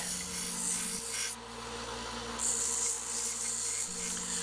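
A small $79 strip sander shaping a wooden chef knife handle, a steady motor hum with a loud abrasive rasp that swells and drops as the wood is pressed against the belt, close and continuous.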